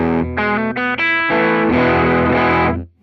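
Electric guitar through an Ibanez TS9DX Turbo Tube Screamer overdrive pushing the front end of an amp, a few quick driven notes then a sustained saturated chord ringing out before stopping, loud and alone.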